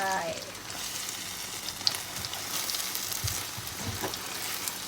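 Fried eggs crackling and sizzling in hot oil, with a scrape and clatter as they are flipped; the bubbling hiss runs steadily throughout, close and moderately loud, with no talk.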